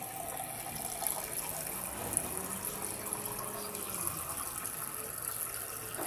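Steady rushing water pours continuously into a water filter container, a constant gushing wash with a few faint clinks, no talking.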